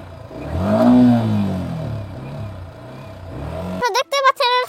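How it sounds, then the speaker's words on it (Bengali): A Yamaha R15 V4 motorcycle engine starting and revving up, a rising and falling growl close by, followed by a voice talking. "এটা হচ্ছে ইয়ামাহা, সাউন্ড অনেক সুন্দর। এই যে স্টার্ট করলাম"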